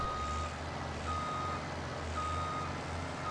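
Steady, evenly spaced reversing beeps from a truck backing up a trailer in Farming Simulator 17, sounding over a constant low engine drone.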